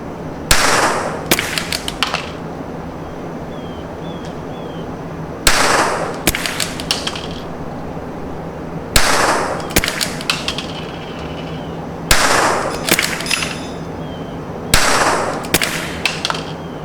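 A CZ .22 LR rifle fires five sharp, close shots spaced a few seconds apart, each crack followed by brief mechanical clatter and ringing, with quiet gaps between.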